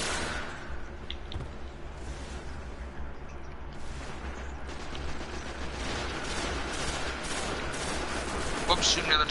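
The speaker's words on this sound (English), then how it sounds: "Whoops, shooting the other teammate, my bad." Rapid, continuous gunfire from the video game Destiny as a player shoots a teammate, dense and steady throughout with a few sharper bursts near the end, and voices faintly present underneath.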